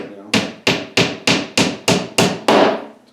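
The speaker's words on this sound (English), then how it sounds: "I'm going to finish nailing this together." Eight evenly spaced, sharp hammer blows drive small nails into a homemade wooden tackle box with a 20-ounce hammer, each strike close and loud with a brief ringing decay.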